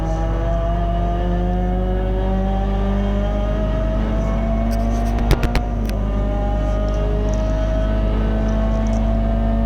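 Peugeot 206 GTi 180 race car accelerating at Silverstone, its engine note climbing steadily through the gears with a loud close in-car drone and a couple of sharp clicks midway.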